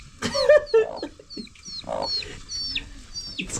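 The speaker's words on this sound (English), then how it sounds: "have the chicken laying eggs here" Chickens clucking in a home yard where eggs are laid and ugali is cooked, with a series of short, close clucks and squawks in uneven bursts, no talk.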